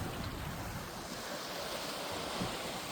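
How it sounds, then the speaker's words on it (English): Sea waves wash below coastal cliffs as a steady, distant roar of surf blended with wind buffeting the microphone, continuous and even throughout. "There's the sea."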